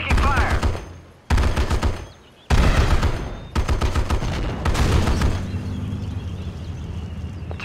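Heavy gunfire during a base attack in the Act of War: High Treason strategy game, loud sustained bursts of automatic fire in several blocks with brief pauses, radio-style unit voices heard under the shooting.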